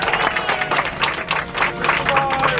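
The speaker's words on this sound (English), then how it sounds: "How about a round of applause for Pilot Jeff today, right?" Applause for a submarine pilot back at the surface: a small group of passengers claps steadily and briskly for a couple of seconds, close by, with a few voices mixed in.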